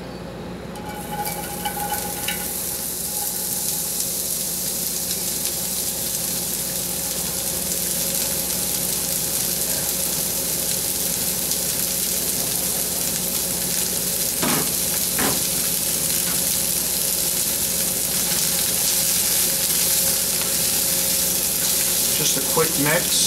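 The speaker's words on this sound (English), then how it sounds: "Now we're gonna go in with our about a medium onion right now. And we wanna saute these" Chopped medium onion sautés in a pan for risotto, giving a loud, steady sizzle throughout, with a few faint utensil clicks and stirring sounds near the middle.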